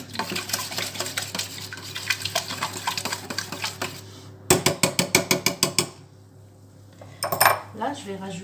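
A spoon scrapes and clinks against a dish while a gratin is stirred together with ratatouille-style cooking, with steady scraping followed by a quick run of sharp, loud metallic knocks and a final clatter, close by.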